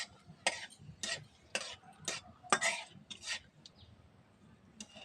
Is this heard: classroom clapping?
no